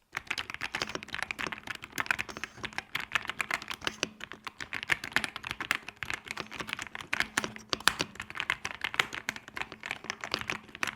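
Rapid, continuous clacking of keys on a mechanical keyboard, steady typing rhythm with soft, close keystrokes and no talking.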